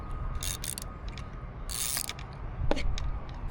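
Old spark plugs come out of a Mercury four-stroke outboard engine during a 300-hour service, heard as close, bursty ratcheting clicks from a socket wrench, with a short metallic clink near the end.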